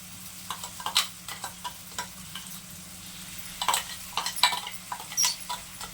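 Raw mango ground with turmeric, two chillies and salt fries in oil, a soft continuous sizzle with scattered crackles and spoon scrapes, fairly quiet and close.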